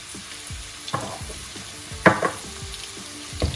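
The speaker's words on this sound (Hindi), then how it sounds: "तो सबसे पहले मैं डालूंगी प्याज। ऑयल हमारा तकरीबन गर्म हो चुका है।" Onion with ginger and garlic frying in hot oil: a continuous close crackling sizzle, punctuated by a few sharp utensil clinks and taps against the pan, with no voices.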